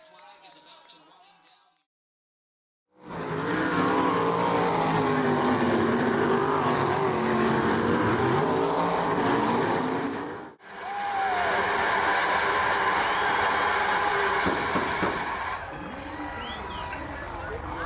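Open-wheel sprint race car, the number 71 Indy Race Parts machine, droning loudly and steadily as it rolls back toward the trailer at a dirt track under a red flag, its engine briefly cutting out and then resuming.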